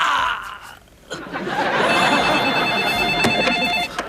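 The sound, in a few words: telephone ringing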